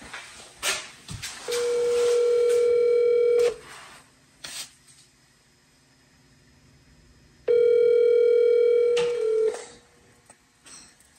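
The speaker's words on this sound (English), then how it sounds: "Calling Jamie Perkins" An outgoing phone call rings back twice: two long electronic ring tones separated by quiet, with light clicks and handling noise around them, fairly close and without talk.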